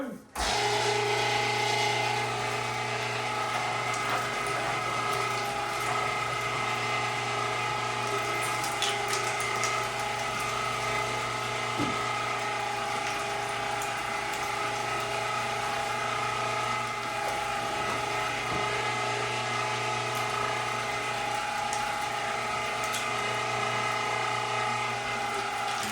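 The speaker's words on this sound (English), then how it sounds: "we're going to run it through one grinder, fat and meat" A meat grinder works through beef fat and meat in one pass, a steady, loud motor drone with a constant whine that runs unbroken throughout.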